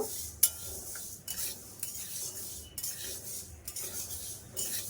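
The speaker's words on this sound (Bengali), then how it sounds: "মুগ ডাল দিয়েছি মুগ ডালটা একটু হালকা করে ভেজে নেব" Moong dal frying lightly in a pan for a Bengali Chaitra Sankranti dish, with faint sizzling under repeated scraping strokes of a spoon stirring the lentils against the metal, quiet and close.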